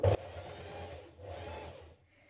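A sewing machine understitching a seam to a pocket while sewing a summer skirt set: a soft steady whirring run, quiet and close, with a brief louder knock at the start and a short pause partway through.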